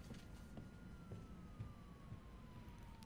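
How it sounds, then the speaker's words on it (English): A police siren wails faintly in Resident Evil 3, its long falling tone drifting over a low, rumbling city ambience with a few soft thuds. "Turn the sirens off."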